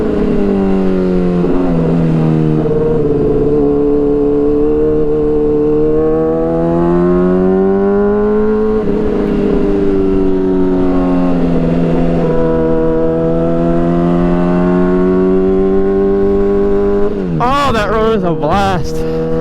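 A motorcycle engine revs hard while riding on twisty roads, its strong harmonic drone rising and falling through gear changes, with a sharp high rev burst near the end; loud and close throughout.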